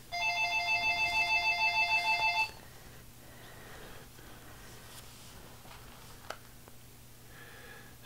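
A telephone rings indoors with a steady, pulsing electronic trill for about two seconds, then stops, leaving a quiet room hum with a few faint knocks and no talking.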